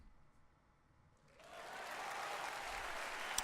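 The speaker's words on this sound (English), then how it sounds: "There was a huge wave of applause." A huge wave of applause from an audience in the video game Steins;Gate 0 swells in after a quiet moment and holds as dense, sustained clapping.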